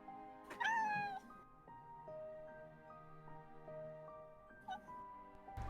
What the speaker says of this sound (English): Kitty noises intensify.